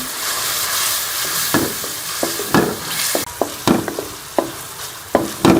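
Chicken liver masala with tomato paste fries in a pan, a steady sizzle broken by repeated spatula scrapes and knocks against the pan, close and loud.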